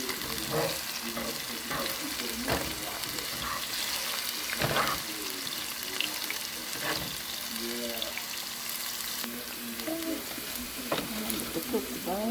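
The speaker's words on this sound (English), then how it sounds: "so I'm gonna saute some onion first and a little garlic for my collard green" Chopped onion and a little garlic sauté in oil for collard greens, giving a steady low sizzle broken by occasional scraping stirs, faint and close, with no voices heard.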